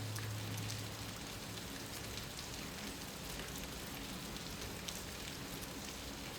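Steady, dense rain falls on surfaces in a quiet forest, a continuous even hiss of drops with no breaks and no voices.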